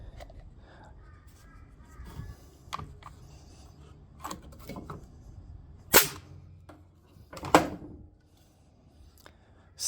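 A Ryobi Airwave RA-NF90-K framing nailer fires on a reduced air supply, giving two loud, sharp cracks a couple of seconds apart, with a few fainter clicks and handling knocks around them.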